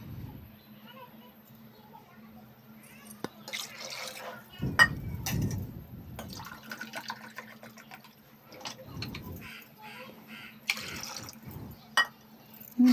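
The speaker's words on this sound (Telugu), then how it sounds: "ఇప్పుడు 4 గ్లాసులు వాటర్ వేసుకోవాలండి ఇందులో" Four glasses of water poured one after another into a pot of fried chicken biryani masala, landing as separate splashing bursts with quiet gaps between them, while a person talks.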